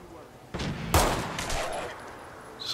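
Pistol fire in Fallout 4: a couple of sharp, close shots ring out with a short echoing tail, then quieter game ambience follows, with faint talk underneath.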